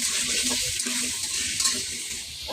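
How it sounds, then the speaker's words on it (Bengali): Potato pieces fry in hot oil in a pan, a steady loud sizzle with soft crackles and occasional stirring scrapes throughout, heard up close. "আলুটা ভাজা নিই।"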